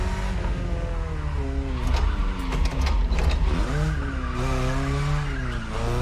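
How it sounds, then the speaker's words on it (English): BMW M3 E30 Sport Evolution drifting through corners in The Crew Motorfest, a steady revving engine with pitch rising and falling through gear changes, overlaid by sustained tire squeal and skidding, loud and continuous. "Drifting the corners here."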